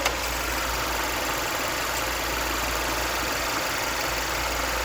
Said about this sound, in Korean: 빠르게 엔진 음도 한번 들려드릴게요